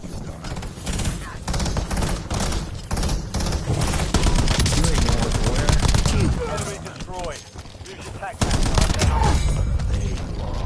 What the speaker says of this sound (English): Someone's shooting me in the back